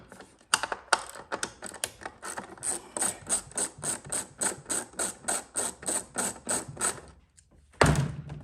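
Close, loud ratchet wrench loosening a 10 mm nut on a Ford Edge Sport 2.7 during purge valve replacement, about twenty steady rapid clicking bursts, then a final clunk.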